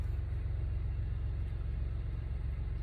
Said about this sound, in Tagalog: Nagta-traffic din po dito sa Japan.